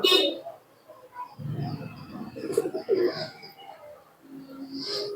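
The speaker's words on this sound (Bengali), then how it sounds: "জোড়া কবুতর সেল আছে দেখুন একদম কালো শেখের কবুতর" Murshidabad Giribaz pigeons cooing close by, low throaty coos rising and falling, with a few brief chirps over them, and people talking faintly.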